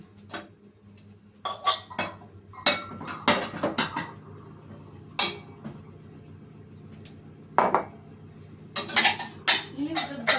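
Dishes being unloaded from a dishwasher in a home kitchen: sharp clinks and clatters of plates and cutlery in irregular bursts, close and fairly loud, with quieter gaps between handlings.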